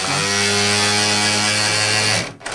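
An electric sander used for felting wool whirs with a steady, loud buzzing hum of harmonic tones for about two seconds, then cuts off abruptly with a brief dip.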